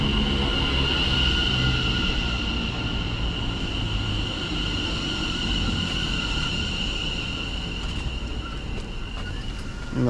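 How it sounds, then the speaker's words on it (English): A Greater Anglia passenger train from London Liverpool Street to Colchester Town arrives, rumbling steadily close by, a broad continuous roar with a high whine running through it, no voices. "coming in now is the 10:21 Greater Anglia service from London Liverpool Street to Colchester Town"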